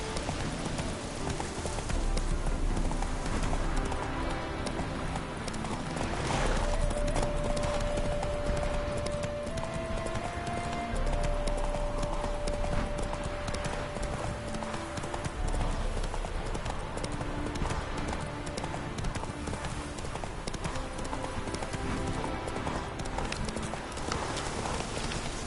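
A horse's hooves clip-clop in a fast, continuous gallop in the Witcher 3 video game, loud and close over a dense outdoor ambience, with a brief tonal whine partway through.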